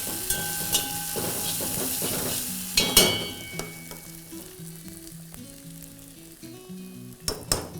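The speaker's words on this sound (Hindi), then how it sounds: "ये जो आपका प्याज जो भुन रहा है ना, अब इसमें खड़े मसाले जाएंगे" Sliced onion fries in ghee with whole spices (green and black cardamom, mace and bay leaf), a loud close sizzle with sharp crackles and spatula stirs and scrapes against the pot, easing slightly toward the end.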